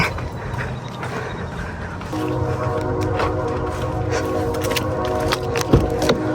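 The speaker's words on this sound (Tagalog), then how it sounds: "Narinig niyo ba yung tren?" A train rumbles past close by, a steady low roar with rising clatter and a few sharp metallic knocks near the end.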